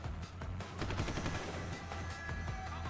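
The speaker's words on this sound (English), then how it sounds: "Who are they shooting at?" Bursts of rapid automatic gunfire from Deus Ex: Human Revolution rattle continuously through a low-level combat soundscape, fairly quiet and unbroken, with no voices heard.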